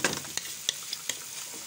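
Cumin being stirred and sautéed in a hot pan, with a steady sizzle of frying under a few sharp scrapes of the spoon against the pan, close and fairly clear, no talk.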